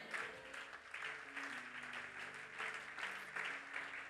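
Church congregation clapping, a continuous, fairly faint wash of applause with scattered bursts and some voices and low music mixed in.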